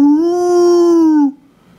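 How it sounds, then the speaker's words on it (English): A dog gives one long, loud, steady howl close by, holding a clear tone for over a second before cutting off into quiet. "He howled under her window."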